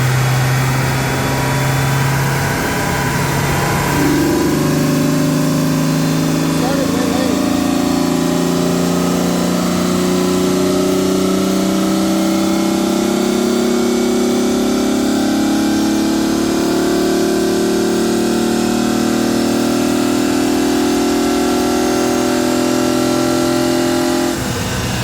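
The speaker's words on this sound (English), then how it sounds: "So we're gonna warm it up again and try for another pull." A VR6 engine on a dyno during intake manifold testing runs continuously, rising from idle into a steady, loud droning rev that holds a sustained tone for the full stretch.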